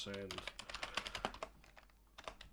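Quiet, quick typing on a computer keyboard, a rapid run of close key clicks with a brief pause before a final burst.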